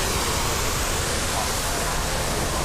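Dense, steady rushing of water from a fountain at Epcot that resembles a waterfall in reverse, a loud broadband wash filling the whole moment without any break.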